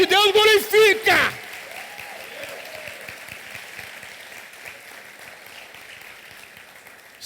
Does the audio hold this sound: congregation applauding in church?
yes